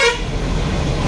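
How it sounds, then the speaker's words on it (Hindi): A vehicle horn gives one short, steady honk on a ghat road, close and fairly loud over engine rumble. "एक बार बजाइए ना हॉर्न।"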